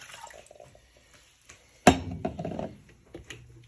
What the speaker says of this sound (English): I take 2 cups of water, pour it into the pan